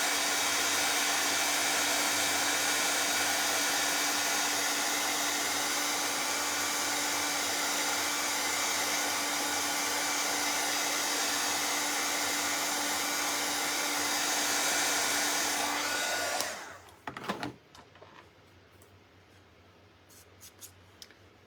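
A hair dryer blows steadily at close range, drying paint on wooden porch leaner boards, a loud constant whine and rush lasting about sixteen seconds before cutting off, followed by a few light handling clicks and rustles.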